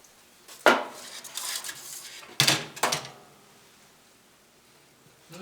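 Chicken wings being turned over in a pan, with a few sharp metallic clanks and scrapes of utensil against cookware, two main bursts separated by quieter rattling, then settling to near silence.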